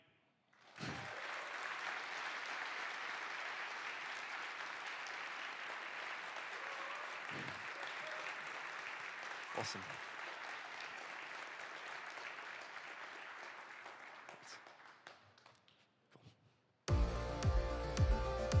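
Sustained audience applause at a tech conference, a steady wash of many clapping hands that lasts about fifteen seconds and slowly fades. A voice speaks briefly at the end.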